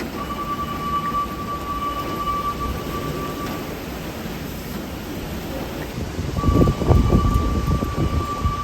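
Strong wind roars steadily during a storm, with a low rumble of thunder swelling near the end; a thin electronic tone runs faintly across part of the scene.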